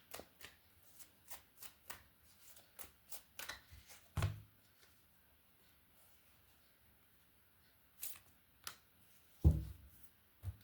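Tarot cards shuffled by hand give a string of crisp riffling bursts. They come in quick succession over the first four seconds, then fall quiet and return as a few louder riffles toward the end, with no one speaking.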